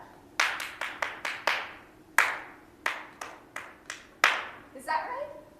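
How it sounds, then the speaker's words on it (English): A single person claps out a melody's rhythm in about a dozen sharp, close hand claps in an uneven pattern, with short gaps and a brief pause midway, ending in a softer flutter. "Here, clap it out."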